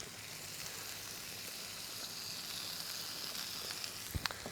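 Golden chicken kebabs coated in yogurt and onion sizzle gently in a pan over low heat, a steady soft crackle with a couple of sharp clicks near the end.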